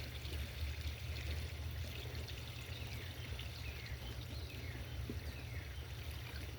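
Water pours steadily into a bucket of harvested comfrey leaves to submerge them, a continuous close rushing gush lasting throughout, with faint birdsong in the background.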